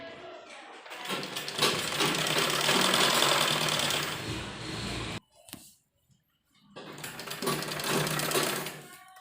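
A sewing machine stitches a cord and strip onto a kurti in two fast, rattling runs separated by a brief pause, loud and close, with someone speaking between the bursts.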